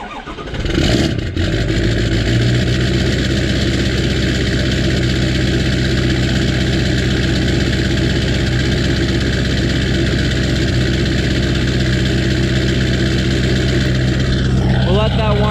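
A cold Ford F250 truck engine turns over and settles into a loud, steady idle close by, with a low rumbling drone that continues unbroken after the start.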